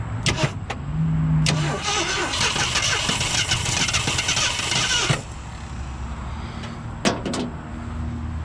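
A Ford Galaxie cranks and fires up, the starter grinding briefly before the engine catches and runs with a loud, rough roar for several seconds, then settles to a lower idle, with a few sharp clicks nearby.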